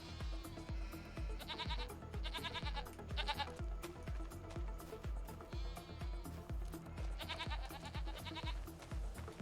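Baby goats bleat repeatedly by a pond with lily pads on a Farming Simulator 25 farm, several bursts of wavering cries over a steady rhythmic background beat, with no voices.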